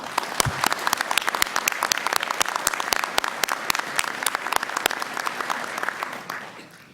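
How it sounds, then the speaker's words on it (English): Sustained applause from a commencement audience honoring graduates' families and spouses, many hands clapping steadily and fairly close for about six seconds before fading slightly at the end. "Please, let's give them a round of applause."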